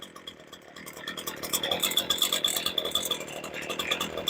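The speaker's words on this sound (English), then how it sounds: "Sounds like she's idling pretty good." A freshly started chainsaw idling outdoors at an Arizona truck campsite, a close, rattly mid-pitched engine putter with a fast pulsing rhythm that grows steadier and slightly louder.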